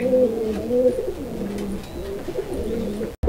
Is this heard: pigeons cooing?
yes